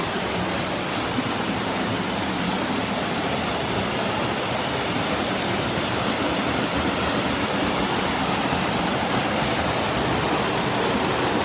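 A small waterfall in Northumberland National Park rushes and splashes close by in a constant, dense roar that holds unchanged throughout.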